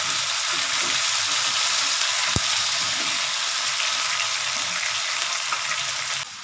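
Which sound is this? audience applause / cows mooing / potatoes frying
potatoes frying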